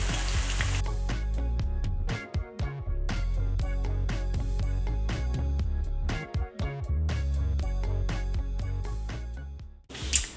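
Papaya and squash (kalabasa) ukoy fritters frying in hot oil, a steady close sizzle with rhythmic clattering of utensils and brief pauses throughout.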